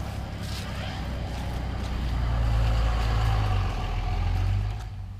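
Traffic rumbling along a road in David Crockett State Park, a steady low engine drone that swells as vehicles pass nearby, then eases off toward the end.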